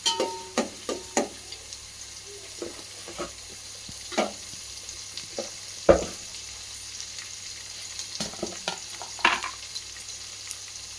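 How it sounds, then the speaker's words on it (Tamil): Onions sauté in a pot for Hyderabad mutton biryani, giving a soft sizzle punctuated by irregular spoon scrapes and knocks against the pan, close by with no talking. "ஆனியன் வதங்கிட்டு இருக்கும்போது தேவையான அளவு நம்ம உப்பு சேர்த்துக்கலாம்"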